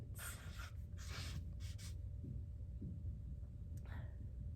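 Pen or pencil writing by hand on paper, a few quiet scratchy strokes in short bursts over a low background hum.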